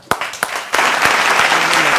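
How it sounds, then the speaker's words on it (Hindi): A studio audience on a televised political debate show breaks into applause: a few sharp separate claps, then steady, dense clapping from the crowd that stays loud and even to the end. "तालियां!"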